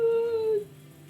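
A pet dog gives a loud, sustained howl-like whine that holds a steady pitch for about half a second, then drops off abruptly, leaving only quiet room tone.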